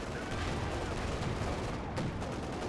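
Dense battlefield gunfire and tank fire in Company of Heroes 2, a Sherman fighting an Ostwind and a Panzer IV, with continuous overlapping shots and rumbling blasts at steady loudness throughout.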